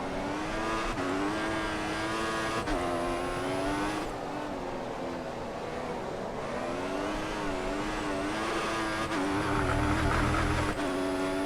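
A Formula 1 car screams through gear changes in the F1 2014 racing game, its high engine note climbing and dropping sharply with each shift, close and loud, with a brief low rumble near the end and no talking.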